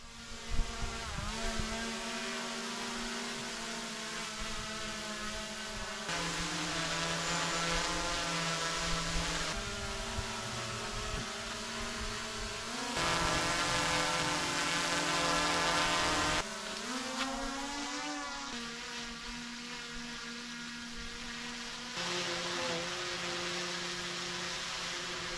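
Four DJI drones, including the Air 3 and a Classic model, hover one after another in a steady propeller whine, each section a distinct buzzing drone tone at a slightly different pitch and loudness, continuous and without talk.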